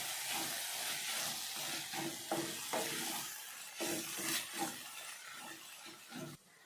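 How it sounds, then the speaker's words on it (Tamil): Masala sizzles and hisses in a hot pan while being stirred, with scraping bursts and steady frying crackle, close and moderately loud, no voices. "எல்லாம் சேர்த்து நல்லா வதக்கி விடலாம்"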